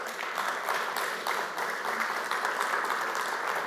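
Applause from the audience at a summer school closing ceremony, a steady dense clapping that continues without a break throughout.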